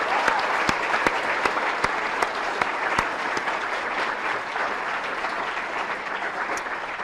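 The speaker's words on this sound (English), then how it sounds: "If you could just give them a round of applause." A school assembly audience applauds the graduating class of 2026 yearbook seniors, steady broadband clapping from a large crowd sustained for several seconds with a few sharp nearby claps standing out.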